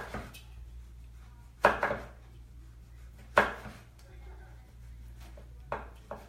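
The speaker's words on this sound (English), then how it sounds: "she likes to cut her eggplant in circles" Eggplant is cut into circles on a board, with a few distinct knife chops spaced a second or two apart over a low steady hum, close and moderately loud, while people talk.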